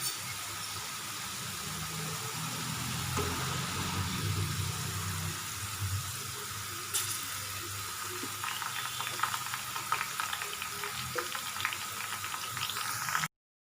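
Corn frying in hot oil until golden and crisp gives a steady, dense sizzle and bubbling that runs evenly throughout at moderate volume, then cuts off abruptly at the end.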